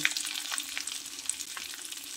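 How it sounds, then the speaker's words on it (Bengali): A tadka of asafoetida and Kashmiri chilli powder sizzles and fries in a pan for matar aloo dum, a close, continuous crackle with light stirring and no talking. "দেখুন তড়কা বেশ ভালোভাবে ফুটে উঠেছে"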